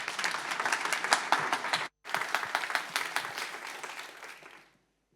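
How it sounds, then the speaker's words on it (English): Audience applause for a lightning talk speaker at a documentation conference in Berlin, a dense steady clapping from a crowd that breaks off briefly partway through, then resumes and fades out to silence. "Please give a warm round of applause."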